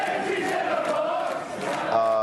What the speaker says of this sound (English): They were cheering Lizzie's in a box.